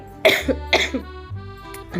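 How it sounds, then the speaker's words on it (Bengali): A woman coughs several times close up, two strong harsh bursts followed by a softer cough and throat clearing, over a faint background hum. "প্রচণ্ড কাশি হচ্ছে"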